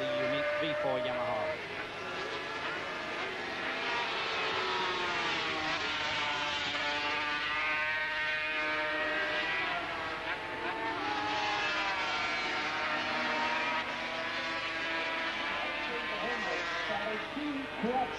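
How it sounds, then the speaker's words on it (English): Several 500cc two-stroke Grand Prix racing motorcycles, among them a V4 Yamaha, race at the 1982 Dutch TT at Assen. Their engines drone and wail steadily for the whole stretch, while a commentator talks over the top. "that is Kenny Roberts on bike number 3, the unique V4 Yamaha"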